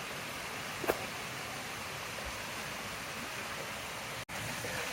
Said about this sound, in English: There is another perspective on the waterfall.